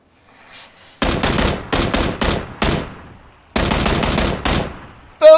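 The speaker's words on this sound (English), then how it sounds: "Now, people can hear those gunshots from all around" Gunfire in the battle royale game PUBG: a quick series of loud, sharp shots in two clusters, the first as several separated bangs, then a tight rapid burst, followed by a final close crack.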